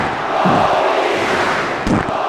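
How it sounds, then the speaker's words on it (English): A wrestling event crowd roars loudly and steadily, a dense wall of cheering and yelling filling the hall, with a brief sharp burst near the end. "And again, the crowd gets loud."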